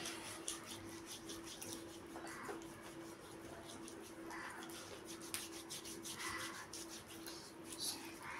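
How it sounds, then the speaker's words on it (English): Hands are rubbed with a homemade scrub mixture, giving a soft continuous scratchy friction with gentle strokes rising and falling, close but very faint against a low steady hum. "scrub your palm also"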